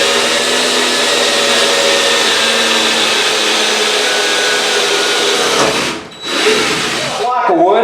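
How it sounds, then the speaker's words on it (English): A power drill fitted with a hole saw cuts through a shower wall, a loud, steady grinding whine running for about six seconds before briefly dropping out, restarting, then cutting off as a voice starts to talk. "Then once I get my pilot hole, I'll put the hole saw on."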